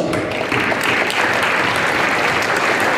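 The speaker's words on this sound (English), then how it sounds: "Let's show Ms. Stevens our appreciation" A crowd applauds steadily at a high school National Honor Society induction ceremony, with dense, sustained clapping filling the room from start to finish and no speech over it.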